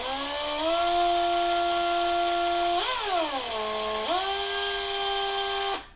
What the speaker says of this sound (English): So when you're drilling metal, you actually drill slow.